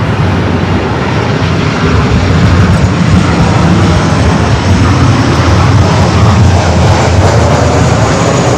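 A fixed-wing airplane arriving at LAX roars loudly and steadily, with a deep engine rumble that fills the whole stretch without a break.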